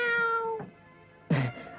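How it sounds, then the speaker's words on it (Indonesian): A cat meows twice indoors, a long drawn-out meow followed after a short pause by a second, shorter one, clear and close. "Kucing."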